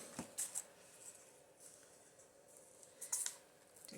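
Scissors cut across the bottom of a paper page for a Dollar Tree junk journal, giving a few quick, crisp snips close by: a pair near the start and another pair near the end, with quiet room noise between.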